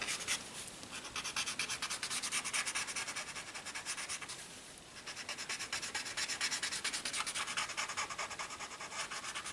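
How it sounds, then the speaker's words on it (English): A tortillion blending pencil drawing on paper rubs in quick, repeated soft scratchy strokes, close and faint, with a brief pause midway before the rhythmic smudging resumes. "And then using my Tortillions to smoothen it out."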